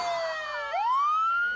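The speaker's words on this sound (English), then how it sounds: "screams and the naked gun siren." A police siren from the 1985 horror film Friday the 13th: A New Beginning, played as a Naked Gun–style gag, wails loud and close in a single falling-then-rising sweep, with no other sounds.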